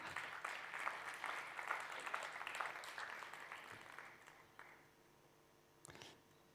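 An audience at a marketing conference claps for several seconds, then the applause fades out, leaving a brief pause and a single sharp sound near the end.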